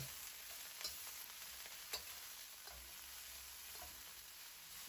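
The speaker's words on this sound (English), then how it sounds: "Now dump in the broccoli florets. Let them sit for 2 minutes to take on some color. Then come and stir around thoroughly." Broccoli florets stir-fry in a hot pan, a quiet steady sizzle with a few soft scrapes and clicks as they are stirred around, no voices.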